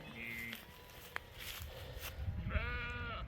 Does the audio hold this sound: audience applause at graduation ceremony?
no